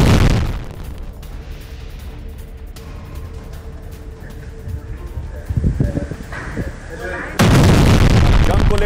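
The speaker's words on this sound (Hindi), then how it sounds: "ये देखिए, बुरखान मिसाइल दागी है उसने, हिजबुल्लाह ने इसराइल के ऊपर।" A Hezbollah Burkan missile launched toward Israel, with a loud deep boom at the start, a long low rumble with faint voices, then a heavy sustained roar toward the end.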